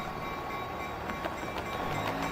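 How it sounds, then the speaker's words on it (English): Pneumatic bell on a passing Union Pacific freight train on the main line, heard as a steady, fairly loud clanging over a continuous rumble of rolling rail cars, with no talk. "that's a pneumatic bell, a hyper pneumatic bell if I've ever heard one there"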